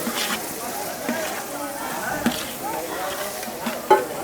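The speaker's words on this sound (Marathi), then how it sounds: "आता आपण खोबरं घालूया बारीक म्हटलेला चांगलाच आपल्याला मसाला आहे ना परतून घ्यायचा" Grated coconut masala for village-style Dhangari mutton is stir-fried in a pan, giving soft scraping stirs and a light sizzle that sit beneath ongoing talk.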